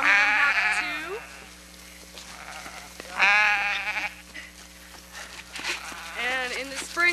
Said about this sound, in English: In the spring, they'll have baby lambs. Some of them have 2.